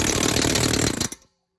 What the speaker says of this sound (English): I got the tool on the fan clutch and that going up to the air hammer